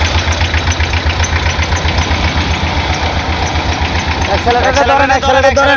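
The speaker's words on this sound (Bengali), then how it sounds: "আমি আপনাদেরকে ইঞ্জিনের সাউন্ডে একটু দেখাচ্ছি ইঞ্জিনের সাউন্ডটা দেখ" A car engine idles steadily with a low, throbbing rumble throughout, and toward the end a voice speaks over it.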